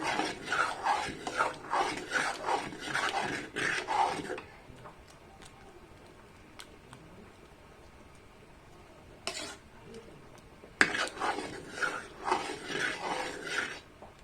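A spoon scrapes and stirs rice and bean porridge (payarum kanji) boiling in a pot, with close rasping strokes in two stretches and quieter bubbling between them.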